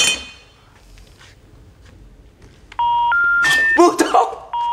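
A phone call fails to connect: a few sparse electronic tones play, then a loud sequence of stepped beeping tones rings out, followed by a jumble of clinks and another tone, with voices at the very start.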